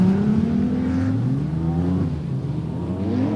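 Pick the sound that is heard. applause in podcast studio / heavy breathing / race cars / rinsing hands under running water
race cars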